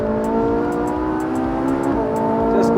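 A 2013 Ferrari 458 under way, its engine giving a strong sustained tone with rising harmonics as it accelerates, close and loud with no talk over it.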